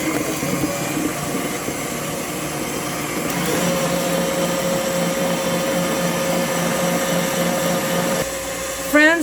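An electric mixer beats a banana mango loaf batter as a steady whirring drone that holds throughout, with a faint change in pitch partway and a short clatter at the end.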